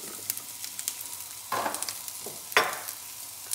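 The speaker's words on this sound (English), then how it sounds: "So the pan's nice and hot. Asparagus goes in." Asparagus going into a hot pan: a steady, crackling sizzle that flares loudly twice as pieces hit the oil, with light stirring noises, and no talking.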